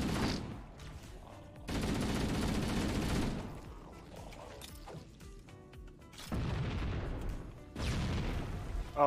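Gunfire in Halo: Combat Evolved, including turret fire, comes in loud sustained bursts separated by quieter stretches with scattered booms and crashes, the shots aimed at the player.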